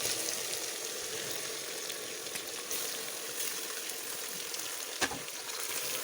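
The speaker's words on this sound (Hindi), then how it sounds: "और साथ ही मैं इसमें अदरक लहसुन का पेस्ट डाल रही हूँ और साथ ही मैं इसमें ये चिकन डाल रही हूँ" Chicken with ginger-garlic paste fries in a pan, giving a constant close sizzle with faint crackles and one brief clatter near the end.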